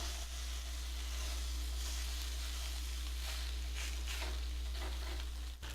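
Pork roast searing in a hot pan, a loud, steady sizzle of frying fat that holds for several seconds with a brief clatter near the end, no voices.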